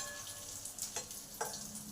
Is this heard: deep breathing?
no